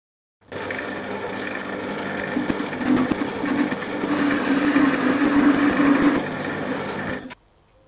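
A Quorn Mk3 tool grinder cuts a wheelhead collar with a long stick-out and chatters. A steady, buzzing mechanical whir runs for several seconds, grows harsher and louder midway, then eases before stopping abruptly.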